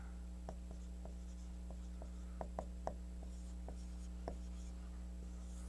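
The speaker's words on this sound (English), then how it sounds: "now I'm going to erase all this" A board is wiped clean after a statistics lesson, giving a series of faint, short scrubbing strokes over a steady low electrical hum in a quiet room.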